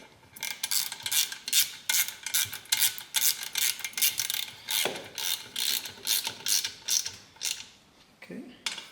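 A ratchet with a 30mm socket turns on the gearbox of a 1977 BMW R75/7 motorcycle, giving a rapid series of rhythmic clicking strokes, close and fairly quiet, repeated steadily throughout.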